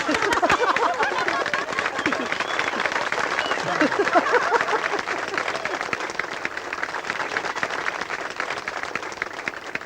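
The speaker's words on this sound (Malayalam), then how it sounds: "let's welcome her with a clap" Steady, dense audience applause welcoming a woman onto a stage, with many hands clapping continuously and evenly for the full stretch at a strong level, a few voices mingling in the crowd.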